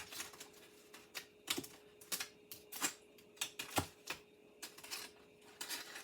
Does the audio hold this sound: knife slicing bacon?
yes